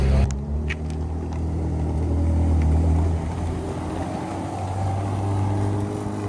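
A sports car engine with a custom exhaust rumbles steadily nearby, with a deep, throaty exhaust tone holding at a constant level throughout.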